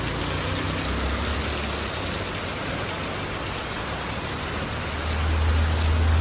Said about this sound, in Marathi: खूपच पाऊस चालू आहे जोरात आज पाऊस आहे